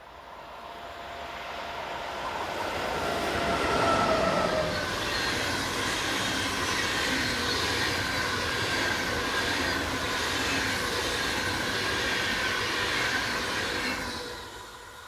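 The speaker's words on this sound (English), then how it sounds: "In the opposite direction is 101027 on train IC 2082 from Berchtesgaden to Hamburg." An intercity train hauled by a locomotive rumbles past at moderate distance, rising to a steady roar of rolling wheels with faint rhythmic clatter, then fading slightly at the end.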